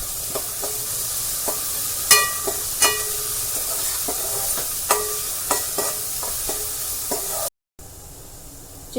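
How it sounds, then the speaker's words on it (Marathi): Chopped onion sautéing in a pan for Agri-style chicken curry, a steady sizzle and hiss broken by repeated scraping and clinking of a spatula stirring against the pan, with a brief dropout near the end. "तर आता कांदा आपल्याला व्यवस्थित परतायचा आहे चांगला गोल्डन ब्राऊन पर्यंत परतायचा आहे"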